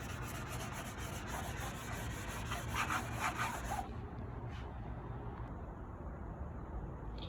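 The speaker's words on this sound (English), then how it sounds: "I just use medium grit sponge sandpaper, nothing fancy, just to kind of, you know, roughen it up a little bit." A worn old surfboard being roughened by hand with a medium-grit sponge sanding block, making a steady, close scratchy rubbing that runs on continuously, then quietens near the end to lighter, intermittent scuffs.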